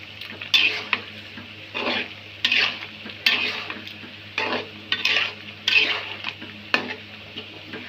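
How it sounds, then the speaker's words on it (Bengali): A spoon stirring hog plum (amra) pickle in a pan, with repeated scraping strokes over a steady low sizzle of frying, close and fairly loud, with no talking. "একটু নাড়া দিয়ে দেই।"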